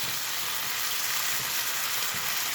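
Finely chopped chicken sizzles steadily in a hot pan for a chicken Philly, a continuous close hiss of frying with faint occasional stirring underneath.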